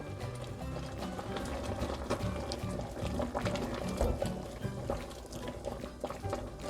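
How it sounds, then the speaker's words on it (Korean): A pot of spring cabbage doenjang soup with green onion, cheongyang chili and garlic bubbles and simmers on the stove, a continuous busy gurgle with occasional soft knocks, heard close with no voices. "이렇게 하고 조금 더 끓일 거예요."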